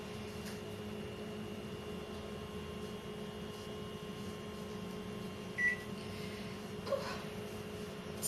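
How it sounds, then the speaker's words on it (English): A microwave oven hums steadily at low level, then gives two faint short beeps as it finishes, with no voices over it. "I can hear that the microwave is finished"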